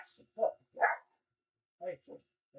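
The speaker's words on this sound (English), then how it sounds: "Use a little bit of editing magic here so the dog barking isn't so loud" A small dog barks at a nearby drone in a few sharp, yappy bursts with short pauses between them, fairly close but subdued in level.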